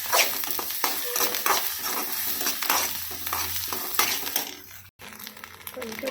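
Ginger paste is stirred through egg fried rice in a hot pan, with a steady sizzle of frying under repeated scraping and stirring strokes, close and fairly loud, broken by one brief pause near the end.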